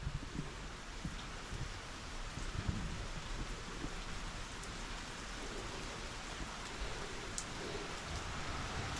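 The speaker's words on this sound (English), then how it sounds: "it's going to start raining once again" Evening rain falls steadily in Danville, California, a soft, even hiss of drops on surfaces heard at a distance with no voices.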